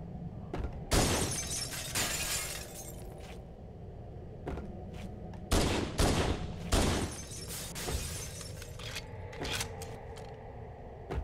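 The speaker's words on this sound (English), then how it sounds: "Oh, I really like the splintering glass sound." Splintering glass in the video game Halo CE Anniversary shatters in repeated sharp, crackling bursts, some loud and close, over a low rumbling game background.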